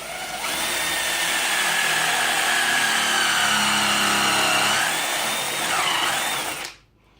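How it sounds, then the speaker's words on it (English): An impact driver drives a bolt, a loud continuous whirring buzz of about six seconds with rising whine, then cutting off abruptly. "So I'm gonna drive one bolt in here."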